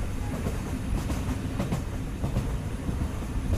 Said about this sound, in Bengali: আমরা দুপুর 12টা ট্রেনে উঠেছিলাম